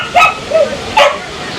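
Dog barking, two sharp yipping barks about a second apart with a short whine between them, close and loud.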